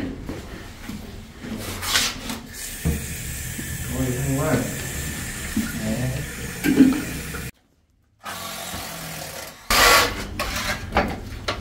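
A toilet flushes in a basement under renovation, a long rushing water swirl that runs for several seconds while people talk over it, then a brief silence and a clatter.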